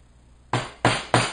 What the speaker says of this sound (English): Not really very hard taps here with the mallet, just enough to